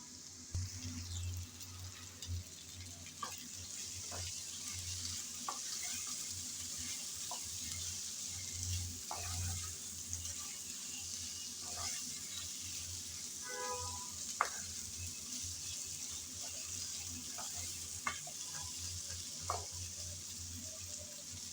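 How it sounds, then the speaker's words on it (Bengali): Potatoes being sautéed in a pan for a yardlong bean curry give off a soft, steady sizzle, with scattered stirring knocks and scrapes and no talking. "আলুটাকে ভালোভাবে কষিয়ে নিলাম।"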